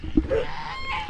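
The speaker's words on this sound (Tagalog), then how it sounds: "Lalaki ng gansa ah" A goose honks loudly nearby, two sharp nasal calls about a second apart with a brief murmur between them.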